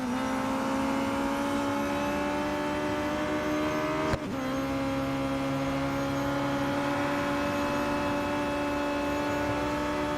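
Radical SR10 XXR race car in Real Racing 3, its engine holding a sustained high steady drone with a brief dip near the middle, loud and continuous with no voices.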